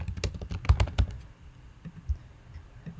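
Quick bursts of typing on a computer keyboard while filling in form fields, with a cluster of rapid clicks early on, then a few sparse keystrokes trailing off, close and clear with no voices.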